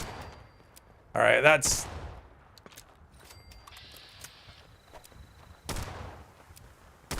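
Gunfire from a weapon in Fallout 76 during play, a loud burst of shots near the start and another around the end, with someone talking over and between them.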